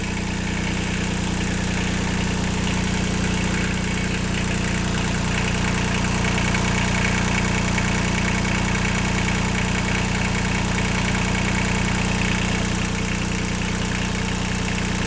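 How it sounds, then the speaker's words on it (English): A Kubota L235 tractor's 3-cylinder diesel engine idles with a loud, steady, continuous drone and an even low throb, running unchanged throughout with no voices. "like this is also a 3-cylinder diesel. I know it's really loud"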